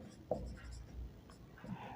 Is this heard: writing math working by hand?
yes